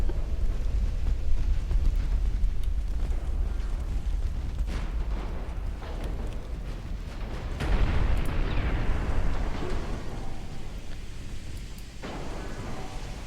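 Heavy naval gunfire and explosions from battleships in Ultimate Admiral Dreadnoughts, a British 1900 campaign battle: a continuous rumbling roar with repeated booming blasts and sharp bursts, loud and sustained with no talking.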